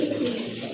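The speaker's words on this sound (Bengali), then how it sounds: "এটাও কিন্তু একটা মাদি কবুতর, খুবই সুন্দর।" A pigeon coos once in a short, low, throaty burst, close and fairly clear against a quiet background.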